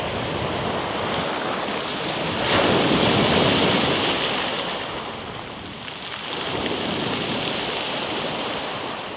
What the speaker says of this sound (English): listening to these waves, listening to the sound of those pebbles, have the water recede over them